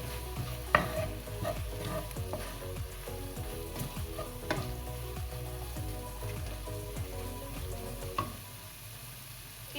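Chicken liver sizzles steadily in a hot pan, with occasional scraping and clacking as it is stirred.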